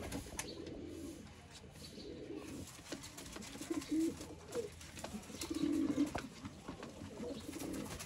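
Pigeons coo softly in low, rolling bursts against a busy background of faint rustling and distant ambient noise.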